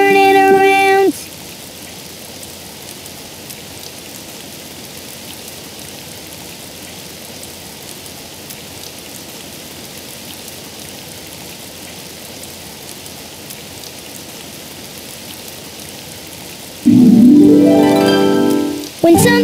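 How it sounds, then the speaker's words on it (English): Steady rain hisses continuously, broad and even, in a Daniel Tiger cartoon; a brief tonal sound opens the clip, and a louder burst of voice-like sound appears near the end. "Oh, it's raining outside."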